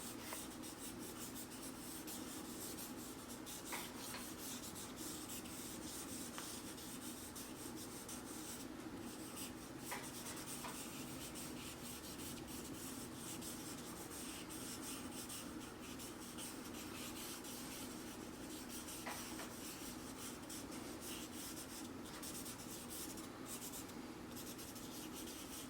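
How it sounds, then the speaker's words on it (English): A pencil sketches a hand on paper with continuous soft scratching and rubbing strokes, close and quiet, and occasional sharper marks. No voices are heard. "Let's do a quick sketch"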